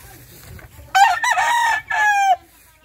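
A pure Kelso gamecock rooster crows once, loud and close, a drawn-out cock-a-doodle-doo with a raspy harmonic call rising and breaking, after quiet low background noise.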